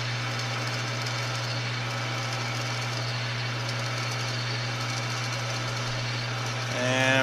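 An annular cutter bores steadily through metal on a drill press, keeping a constant machine hum with a grinding edge throughout before it shifts and rises in pitch right at the end.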